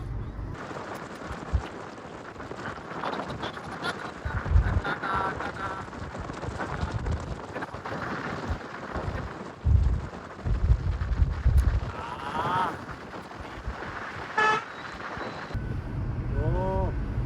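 Wind rushing through an open vehicle window as it moves, a continuous rumbling buffet with shifting gusts and a few brief voices in the background.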